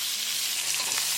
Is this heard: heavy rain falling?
no